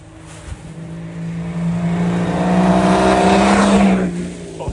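BMW diesel engine fitted in a Land Rover Defender revs up, a loud, close, building roar that swells over a few seconds, peaks and then drops away, with no speech.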